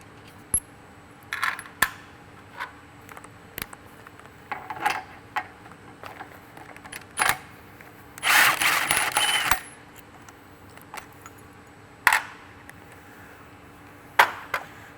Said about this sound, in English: So we'll go ahead and remove this bolt here.